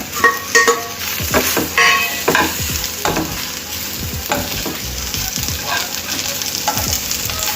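Pieces of taro root frying in a pan with chilli powder, salt and spices, steady sizzling broken by scraping stirs of a spatula, close and fairly loud, with no talking.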